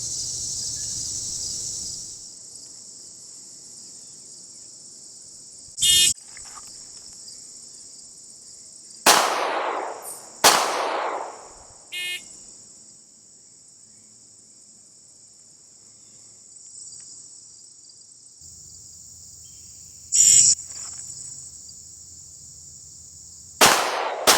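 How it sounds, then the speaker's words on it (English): A Browning Hi Power pistol fires about five sharp, spaced shots at a 25-yard target, loud outdoor cracks with short decays over a steady high-pitched insect-like drone. "I'm just going to be standing and shooting and then kneeling and shooting"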